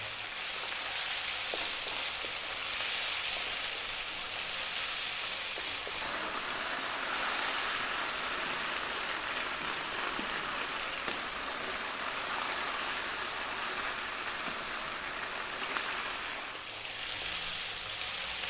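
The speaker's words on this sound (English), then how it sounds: "I'm going to go for about another 2 to 3 minutes, stirring all the time" Garlic pork sizzles and fries steadily in a hot pan while being stir-fried, a dense continuous crackle close up with faint stirring scrapes throughout.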